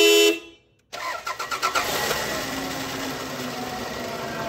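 A Toyota Camry starts up after a timing belt repair: a short honk, a pause, then the starter cranks briefly and the engine catches and settles into a steady, fairly loud idle.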